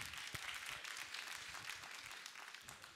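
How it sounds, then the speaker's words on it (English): A few people clapping during a church service, a faint, thin patter of scattered handclaps heard at a distance and continuing steadily in a quiet room. "Three people clapping."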